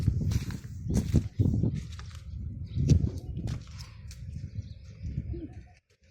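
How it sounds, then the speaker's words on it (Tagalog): Lovebirds in a backyard in Abu Dhabi give several short chirps and calls over a few seconds, fairly close, mixed with footsteps and handling noise while a person speaks faintly. "Yung lovebirds, yung lovebirds."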